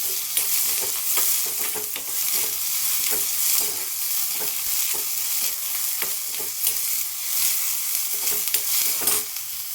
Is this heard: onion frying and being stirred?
yes